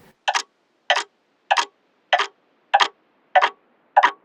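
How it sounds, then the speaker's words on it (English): A clock ticking sound effect, EQ'd to cut the highs, with seven evenly spaced ticks about 0.6 seconds apart, clear and isolated against silence. "although the clock does get louder, there's also like an EQ effect taking out the highs"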